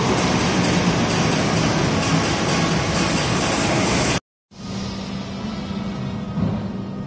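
A Bangkok SkyTrain rolls past at a station with a steady, loud rumble and rail hiss, briefly cutting out, then continuing more quietly with a humming tone, and no talking.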